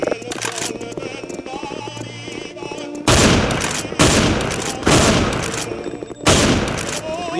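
A shooter game gives several loud, sharp gunshot bursts, each fading in a short echoing tail. They come roughly a second apart after a quieter stretch of busy game sound.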